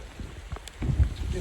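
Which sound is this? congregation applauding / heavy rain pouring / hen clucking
heavy rain pouring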